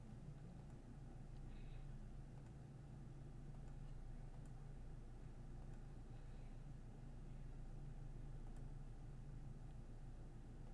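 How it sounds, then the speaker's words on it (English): Steady, low traffic rumble in The Darkside Detective game, a continuous distant hum of passing vehicles heard faintly without any talk. "Could hear traffic."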